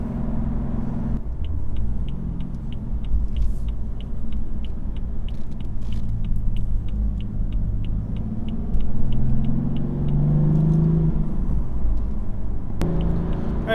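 A 2015 BMW M3 F80 cruising on the German Autobahn, with a steady low road and engine rumble throughout, a brief rise in engine tone near the end, and a faint regular ticking over the drone.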